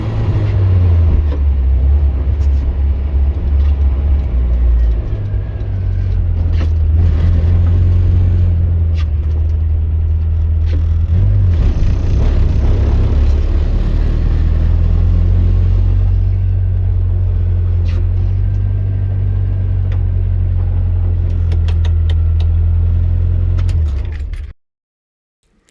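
A Morris Minor climbing a mountain road, its engine droning loud and steady with low rumble and shifting tone as it works uphill, then cutting off abruptly at the end.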